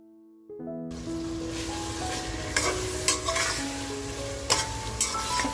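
Marinated prawns dropped into a hot pan with masala burst into a close sizzle after a brief quiet start, followed by several spatula scrapes as they are sautéed.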